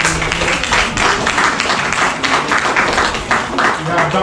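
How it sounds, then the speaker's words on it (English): Audience applause at a Black History Month film festival, a steady dense wash of clapping from a crowd welcoming visiting film students, loud and sustained throughout with a murmur of voices mixed in. "we'd like to give him a round of applause for bringing the students here"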